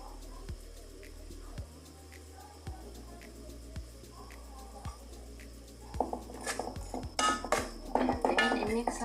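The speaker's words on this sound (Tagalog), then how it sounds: "I-mix lang natin, i-saute lang natin hanggang mag-change color yung ating maliliit na hipon." Small shrimp are stirred and sautéed in a pan, with a metal utensil repeatedly clinking and scraping against it at a steady pace, followed by busier clatter and faint sizzling.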